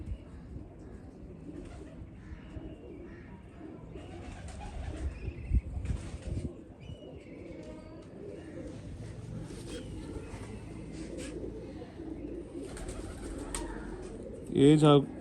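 Pigeons cooing softly on a home rooftop loft, low repeated coos under intermittent talk and ambient noise, with a louder burst of sound near the end.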